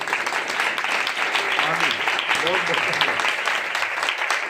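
A church congregation claps in a steady, dense burst of applause under a loud preacher's voice, filling the whole stretch without pause.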